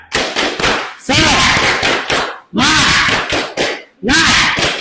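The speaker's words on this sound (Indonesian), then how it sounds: "Tepuk semangat." A classroom of students performs the rhythmic 'tepuk semangat' spirit clap in loud, close bursts of patterned claps, with short pauses between them and voices chanting along.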